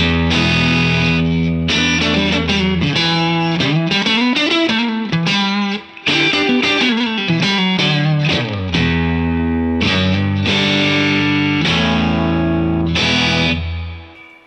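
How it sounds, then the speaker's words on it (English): Electric guitar through a Cachalote console preamp cranked up as a boost, loud and driven with a bright top end, playing a continuous run of chords and notes with no talking. "So let's crank the preamp up and we'll use it as a boost for a minute."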